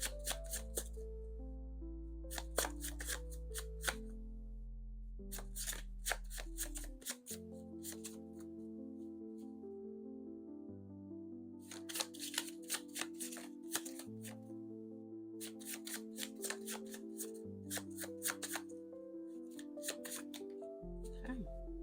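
An emotion card deck is shuffled by hand in repeated bursts of quick riffling and flicking, close and fairly quiet, with pauses and soft low tones between the bursts.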